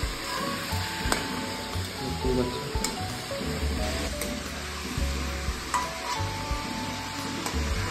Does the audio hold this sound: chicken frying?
yes